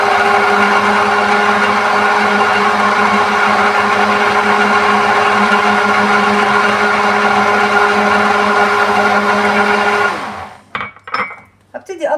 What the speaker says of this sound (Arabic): هيبتدي بقى الصوت بتاع الخلاط يتغير، او بتاع الهاند بلندر يتغير